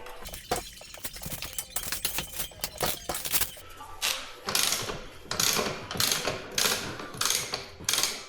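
Wrench loosening a nut on a Hero Eco 150 motorcycle, a run of close ratcheting clicks and metallic clatter, then several separate bursts of rapid ratchet turns with short pauses between.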